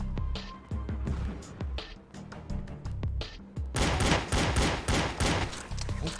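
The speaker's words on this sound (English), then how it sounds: "Oh, I'm throwing grenades." Grenades are thrown and go off in an arcade-style shooter video game: sharp bangs and bursts of gunfire-like cracks, then a louder, sustained barrage of explosions near the end.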